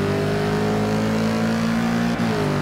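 A Mercedes-AMG GT S Cup race car engine in Forza Motorsport 6 at Brands Hatch drones loud and steady at high revs, with a brief gear shift dip near the end, heard from on board.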